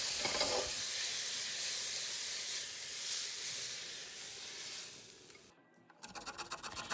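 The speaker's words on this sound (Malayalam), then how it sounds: "കറി വറുത്തിടാൻ വേണ്ടിയിട്ട് ഒരു പാൻ വെച്ച് ഇച്ചിരി വെളിച്ചെണ്ണയും കടുകും കറിവേപ്പിലയും" Mustard seeds and curry leaves fry in hot coconut oil in a pan, giving a steady loud sizzle that drops out briefly near the end, then returns as a sharper, crackling spitter.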